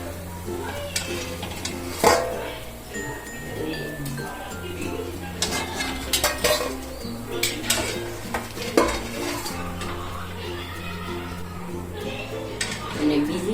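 Fried dahi vadas are lifted out of a frying pan of hot oil: a steady low sizzle with repeated metal spoon scrapes and clinks against the pan, close up.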